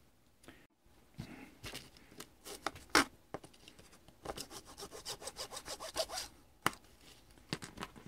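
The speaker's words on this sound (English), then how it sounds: "carefully cutting and prying gets this battery pack" A blade cuts and prys at the plastic battery pack of a TI-58 calculator, with quiet scraping, sawing strokes and scattered clicks in short irregular bursts up close, no voices.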